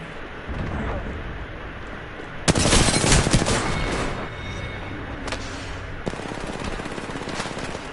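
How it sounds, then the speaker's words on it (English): Gunfire in Apex Legends: a steady rattle of rapid shots underneath, then a loud, close burst of automatic fire for about a second and a half, followed by further sharp shots. "Shots fired at me."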